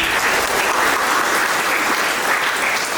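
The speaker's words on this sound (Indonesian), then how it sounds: "Tepuk tangan untuk mereka." Dense, even applause from a congregation at a religious ceremony welcoming new novices, a continuous wash of many hands clapping without pause.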